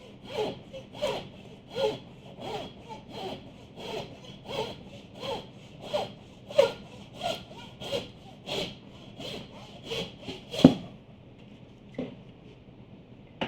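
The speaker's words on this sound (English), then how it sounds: "if you guys use a hacksaw at the house, just long, steady strokes" A hacksaw cuts through an animal's spine in long, steady strokes, about sixteen evenly spaced rasping pulls. The sound is close and loud, with no talking.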